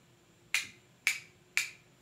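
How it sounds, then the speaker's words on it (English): Three sharp, evenly spaced clicks from a castanet played for a children's singalong, crisp and close with brief decays in a quiet room. "Now, I'm going to use my castanet."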